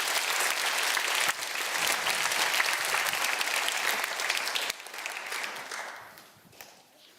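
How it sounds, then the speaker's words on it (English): Audience at a Jesmond Parish kids' talk applauds the helpers in a sustained, dense round of clapping that carries steadily for several seconds, then thins out and fades toward the end. "Can we get a round of applause for them?"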